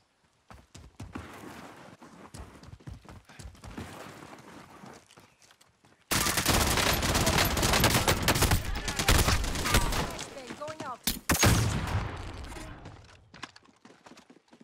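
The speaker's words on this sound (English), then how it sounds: "Receiving hostile fire." Heavy gunfire from a Warzone battle royale match: scattered shots at first, then a loud sustained barrage of automatic fire with sharp bursts, fading toward the end.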